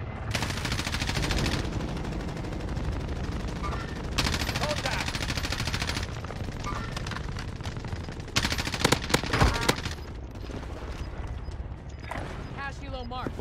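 Rapid gunfire from a Call of Duty match, with repeated bursts and sharp individual shots over a dense, continuous game soundscape, heard under players talking.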